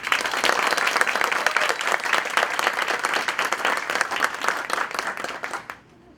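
Audience applause at a public speaking symposium, dense and steady clapping from a full room that carries on for several seconds, then cuts off abruptly near the end.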